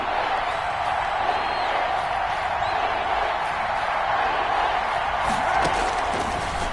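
Stadium crowd in a Madden football video game roars steadily as a big third down approaches, a dense, continuous wash of cheering that stays loud throughout with no distinct voices standing out.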